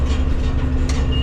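A Massey Ferguson MF 6499 tractor engine rumbles loudly and close in a brief, steady burst as it fires up for stone picking.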